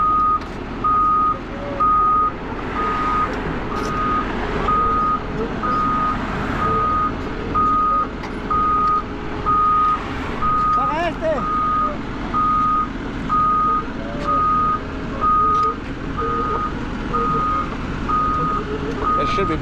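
A truck reversing with its backup alarm beeping in an even, steady rhythm over a loud idling diesel engine, with people talking throughout.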